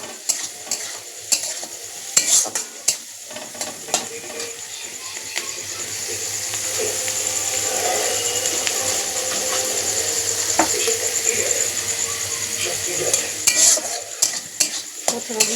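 Chopped ginger, onion and green chilli fry in oil with tempering spices, crackling and hissing steadily while a spatula scrapes and stirs the pan in repeated rattling strokes, close and fairly loud.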